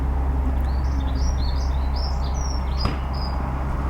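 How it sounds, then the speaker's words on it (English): Small birds sing outdoors in a rural area, with repeated high chirps and tweets over a steady low rumble of traffic and farm machinery, no voices. "birds singing, cars racing by, tractors turning hay."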